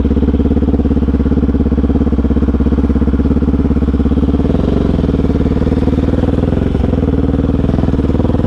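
A vehicle passes on a mountain road with a steady, loud, close engine drone that sounds like idling or low revs throughout, with a slight shift midway and no talking.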